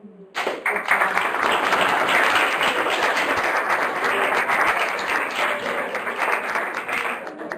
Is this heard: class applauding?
yes